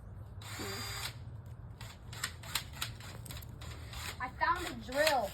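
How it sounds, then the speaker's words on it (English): A handheld power drill buzzes in short bursts and whirs near and moderately loud, with rattling mechanical clicks and children talking over it. "I found a drill."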